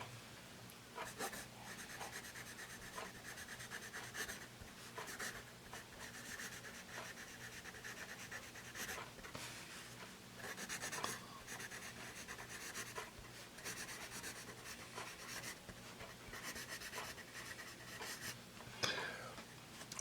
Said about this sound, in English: You're probably hearing a little bit of this pencil.